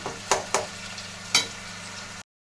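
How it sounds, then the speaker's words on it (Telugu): Ivy gourd (dondakaya) frying in oil with curry leaves, a low steady sizzle punctuated by three sharp crackling spits or stirring clatters before cutting to silence. "అది కూడా ఆయిల్లో ఫ్రై అవుతుంది"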